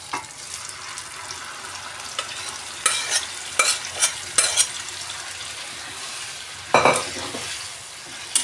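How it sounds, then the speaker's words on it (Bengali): Dal goes into fried spices in a pan for a cucumber curry, and a steady sizzle runs throughout, broken by several loud, sharp scraping clatters of stirring that come in irregular bursts. "মশলাটা ভাজা হয়ে গেছে, এবার দিয়ে দিচ্ছি ডালটা।"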